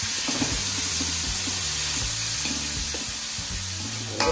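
Chili sizzles steadily in a hot pan while frying, a loud continuous hiss with some stirring clatter, close up and without speech.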